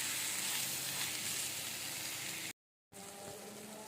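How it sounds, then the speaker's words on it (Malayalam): Coriander, chili and roasted masala frying over a low flame, a steady close sizzle with a short silent gap before the sizzling resumes slightly quieter. "ഈ കൂട്ടിലേക്ക് നമുക്ക് മല്ലിയും മുളക് പൊടിയും കൂടെ വറുത്തതാണ് കേട്ടോ മല്ലിയും മുളകും വറുത്ത മസാലയും കൂടി ഇട്ട് കൊടുക്കാം വീണ്ടും ചെറിയ തീയിൽ വെച്ച് നമുക്കൊന്ന് ഫ്രൈ ആക്കി എടുക്കാം"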